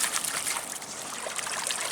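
A coin rinsed in Thames river water on the foreshore, a steady close trickle and splash of water running for a couple of seconds without talk.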